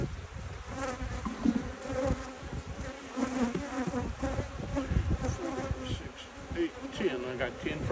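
Honeybees swarm and buzz densely around an open hive box during a split, a constant layered drone with individual bees zipping close past, steady and moderately loud with no talk.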